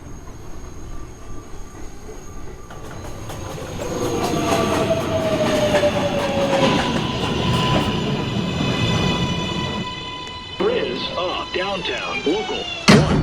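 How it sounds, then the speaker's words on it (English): A Manhattan-bound New York subway 1 train at the 2 Av station at night, rumbling in with metallic wheel squeals and clattering, loud and close, with chimes and tonal announcement sounds near the end. "This is a Manhattan-bound 1 train."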